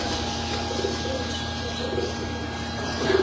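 Pigeons cooing softly in a loft of breeder racing pigeons, low repeated coos spaced about a second apart, faint under a steady background hum with no talking.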